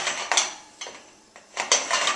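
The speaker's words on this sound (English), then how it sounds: "now we're going to flip around our cinnamon rolls" A metal baking pan of cinnamon rolls scrapes and clanks against an oven rack as it is pulled out and turned around, in a few separate bursts with no talking.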